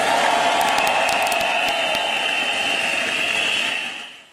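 A large hall audience at the Reliance annual meeting roars with sustained, thunderous applause for the JioPhone launch by Mukesh Ambani. The steady wash of clapping holds evenly before fading out at the end.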